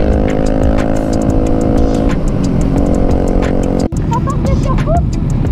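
A loud motorcycle exhaust roars steadily with harsh rumble throughout at a street protest against motorcycle roadworthiness testing, the pitch holding fairly constant, with a brief dropout near the end.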